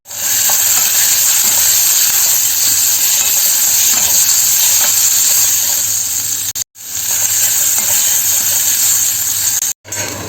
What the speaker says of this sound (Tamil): சீரகம் வெங்காயம் பச்சை மிளகாய் போட்டு தொலைச்சிக்கலாம்